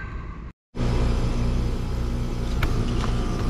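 A one-year-old heat pump unit with a refrigerant leak kicks on after a brief cutoff and settles into a loud, steady mechanical hum and rumble, running alone at close range.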